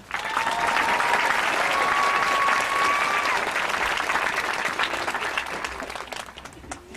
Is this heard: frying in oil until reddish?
no